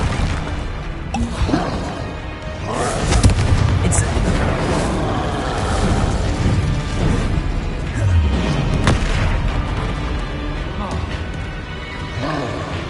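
Confringo and Incendio spell blasts in a video game, a dense run of booming bursts and whooshing impacts firing in quick succession, loud and close, with spoken spell incantations layered over them.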